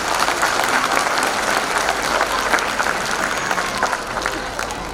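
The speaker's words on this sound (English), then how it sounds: "The students and teachers actually deserve a big round of applause." Steady applause from a large audience at a school annual day function, dense clapping at constant loudness that fills the whole stretch with no pauses.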